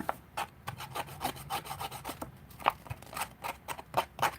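Vintage photos are cut and ripped with scissors during a paper craft session, giving a quick run of rhythmic scraping, snipping and tearing strokes, close and fairly faint, with no talk.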